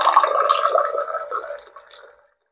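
An automatic electric water dispenser pump pushes out a short stream of water that runs for about two seconds, close by, then tapers off into silence.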